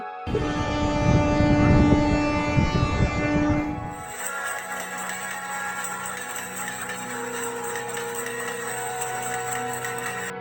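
A cartoon train pulls away: a loud, sustained horn-like tone for about four seconds, then a steadier, quieter rolling rumble of the departing train.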